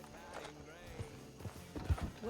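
Horse hooves clip-clopping in a steady walking rhythm, heard close and fairly quiet, with people talking over the footfalls.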